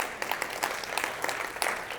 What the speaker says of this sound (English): Just a high five, round of applause, something?